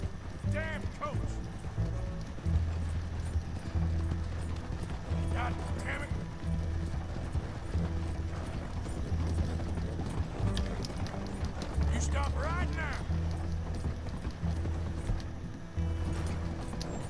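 A horse's hooves clip-clop steadily at a gallop in Red Dead Redemption 2 through much of the stretch, with shouting voices and game music layered over the rhythm.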